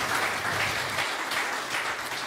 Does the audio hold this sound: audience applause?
yes